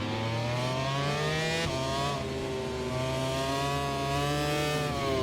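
A racing motorcycle rejoins the track at the Bugatti circuit during a qualifying and sprint session, its engine a loud, sustained high-pitched drone that shifts pitch through gear changes, heard close with no talk.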